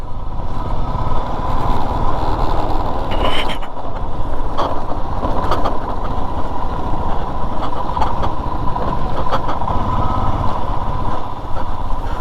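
A motorcycle engine drones steadily and loudly up close on a Spiti road between Gue Monastery and Kaza, a continuous rumble with small irregular knocks and no speech.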